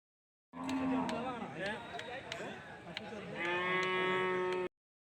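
Cattle low at a livestock market in Chattiparamba, Malappuram district, Kerala, several long moos and calls stretching over a steady crowd murmur with voices talking throughout.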